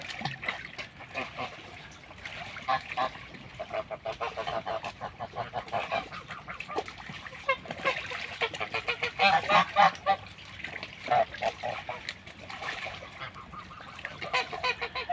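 A flock of geese honking and calling continuously, many overlapping voices close by, with faint splashing water underneath.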